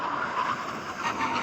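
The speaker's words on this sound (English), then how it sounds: "now we're going to have a brake test from 100 miles an hour" A Porsche, one of a 991 GT2 RS, 992 Turbo S or 992 GT3, brakes hard from 100 mph in an emergency stop, tyres squealing and skidding in a sustained, wavering screech heard from nearby.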